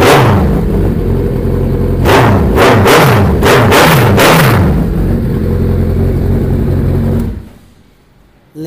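A motorcycle with an aftermarket Wudo exhaust is revved up close: a steady loud rumble, then four or five sharp throttle blips in quick succession, more rumbling, and finally the engine cuts off into near silence.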